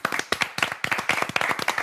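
A small group of guests clapping their hands, a quick spontaneous burst of dense, irregular claps heard close and fairly quiet, with no talk over it.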